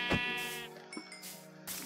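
Sheep bleating in a Minecraft-style survival game, a short synthetic baa repeated a couple of times in close succession, alone without speech.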